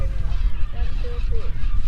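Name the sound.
Upland Goose honking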